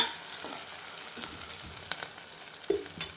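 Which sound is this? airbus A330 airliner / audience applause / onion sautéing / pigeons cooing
onion sautéing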